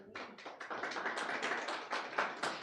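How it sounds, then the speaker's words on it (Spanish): Congregation clapping in a church service, a dense burst of many hands sustained steadily for a few seconds, close and fairly loud with no voices. "denle un aplauso al Señor"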